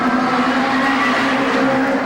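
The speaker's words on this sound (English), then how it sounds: "Simon Smith, the two cars very evenly matched." National Hot Rod race car engines roar loudly and continuously at Arena Essex, a dense high-revving drone with no pauses, as evenly matched cars run close together on the track.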